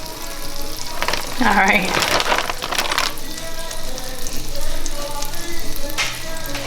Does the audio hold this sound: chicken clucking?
no